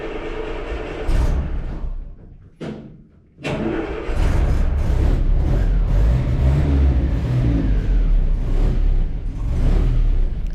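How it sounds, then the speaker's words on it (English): A restored 1955 Land Rover petrol engine with a 2 1/4 litre four-cylinder cranks, briefly dips, then catches and settles into a loud, steady, close running rumble that continues to the end. "This engine is running so well. It starts up very easily and just ticks along."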